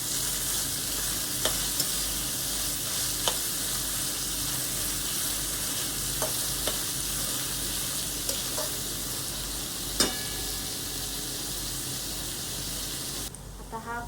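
Chopped onion fries on a low gas flame until golden brown, giving a steady, even sizzle throughout. Occasional faint clicks and taps of stirring sit on top of it, with no talking.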